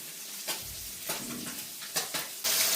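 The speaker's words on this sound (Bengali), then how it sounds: "এখন এর মধ্যে আমি ফুলকপিগুলো দিয়ে দিচ্ছি" Cauliflower florets dropped into a pan of fried spice paste, giving bursts of close, loud sizzling with scraping stirs, ending in a sudden, stronger hiss.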